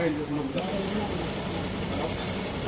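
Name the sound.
Jack A4C industrial sewing machine stitching fabric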